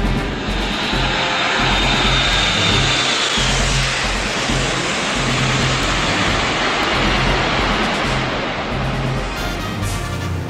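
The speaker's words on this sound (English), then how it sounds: "This plane gets a little loud sometimes." Loud, constant drone of an airplane engine in flight, a steady roaring hum filling the whole stretch with no talking.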